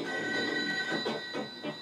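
A telephone rings in the video game ToeJam & Earl, giving bright tonal electronic rings that repeat in short pulses over a sustained humming game background.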